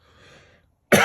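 One sharp, loud cough breaks in close by near the end, after a quiet stretch of faint background sound.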